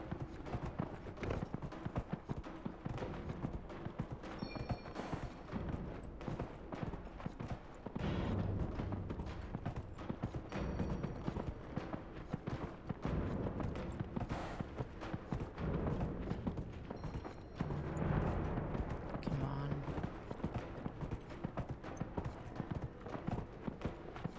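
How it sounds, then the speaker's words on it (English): A horse's hooves clip-clop steadily in Dragon Age: Inquisition, a continuous quick trotting rhythm, moderately close, with an occasional faint snort and brief game chimes over the top. "I like the fact that we have a horse now"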